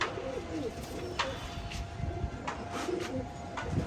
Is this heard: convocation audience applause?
no